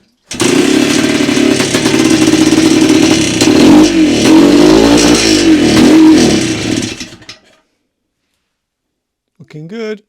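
A 1971 Yamaha DT-1 two-stroke motorcycle engine fires up and revs loudly for several seconds with a buzzing, rising and falling drone, then cuts out, followed by brief talking.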